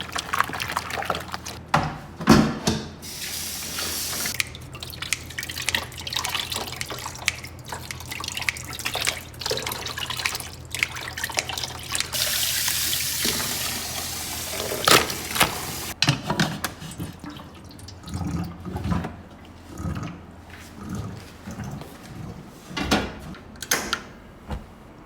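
Tap water runs and drips as pork offal for dinuguan is rinsed again after a salt and vinegar wash, a close irregular trickle with splashes and a brighter gush midway.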